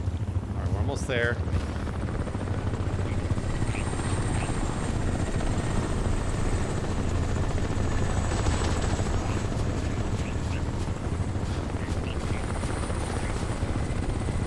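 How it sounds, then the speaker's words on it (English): Helicopter flying in the video game Crysis Remastered, a steady, dense rotor drone that holds for the whole stretch with no break and no voices. "Okay, so I gotta blow up the helicopter."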